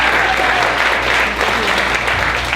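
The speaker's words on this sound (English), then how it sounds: "everybody's going to give you a spontaneous round of applause" Audience at a talent show giving a round of applause, loud, dense and sustained clapping from a large crowd close by, with faint voices mixed in.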